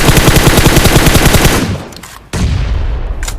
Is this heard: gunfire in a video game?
yes